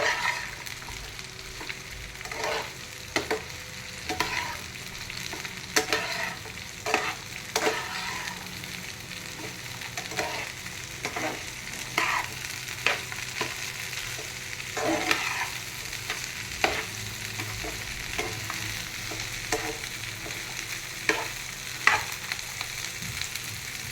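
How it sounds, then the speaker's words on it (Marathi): Okra and potato pieces frying in a pan while being gently stirred, a steady low sizzle broken by repeated sharp scraping and clacking strokes of the spoon, close and unaccompanied by speech. "आता थोडं हलक्या हाताने हलवून घेऊया"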